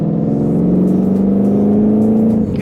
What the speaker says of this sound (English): I love the sound of the supercharger though.